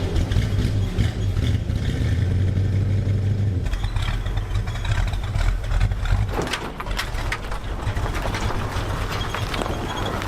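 A 1952 Ford engine, fitted with a new fuel pump and new lines and fed fresh gas, turns over and runs: a loud, steady mechanical roar with clattering that shifts character partway through, close up.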